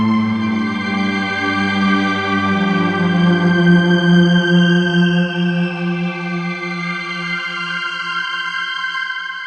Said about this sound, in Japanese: さすがストリングスアンサンブル。